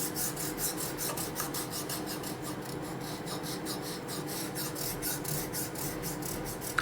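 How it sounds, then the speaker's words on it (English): A flat file rasps back and forth across the flat surface of a machined metal part while deburring, a quick, steady run of rough scraping strokes, close and moderately loud, with no talk. "take your flat file like this and just go across the surface like this"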